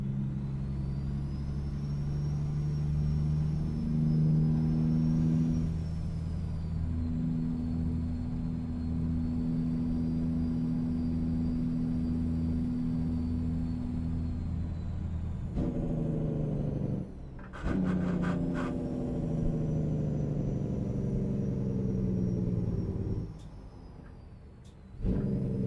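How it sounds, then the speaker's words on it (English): A truck engine drones steadily as the rig drives through town in American Truck Simulator, a loud low hum with brief dips where the revs drop before it pulls again. "Listen to the engine sounds for a while going through town here."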